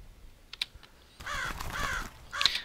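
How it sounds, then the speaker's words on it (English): Crow-like caws from an added bird call effect, a few short separate calls with a rougher harsher burst in the middle, clear and near, with faint flapping hints and no talk. "we've added on a bird call and flapping sound effects"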